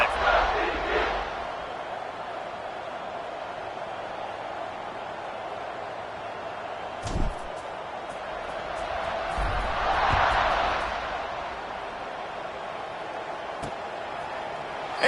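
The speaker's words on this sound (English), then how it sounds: "this crowd is feeling themselves after that last drive" A stadium crowd in the NCAA 26 college football video game roars steadily throughout, swelling to a louder cheer near the end, with a single sharp thud partway through.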